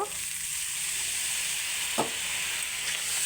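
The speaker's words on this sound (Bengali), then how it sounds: "লবণ, জিরের গুঁড়ো, ভালো করে মশলাগুলো একটু নেড়ে নেব। অল্প জল দিয়ে দেব" Salt and cumin powder masala is stirred in a hot pan with a little water for chicken and potato korma, heard as a continuous bright sizzle broken by one distinct scrape of the spoon midway.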